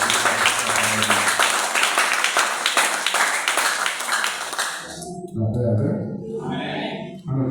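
A church congregation applauding, dense rhythmic clapping filling the room for about five seconds before it stops and a voice speaks over the fading sound.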